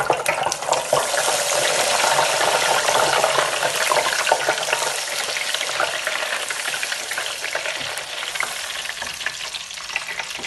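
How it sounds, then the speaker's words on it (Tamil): Brinjal pieces fry in hot oil with a steady, loud, dense sizzle that carries on unbroken throughout. "நான் இதுக்குள்ளே இப்போ கத்தரிக்காய் தான் முதல் பொரிக்கிறப்ப"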